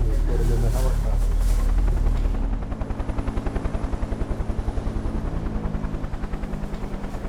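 A helicopter's rotor thumps in a fast, steady beat, loud and close, after a few seconds of a louder roaring mix at the start.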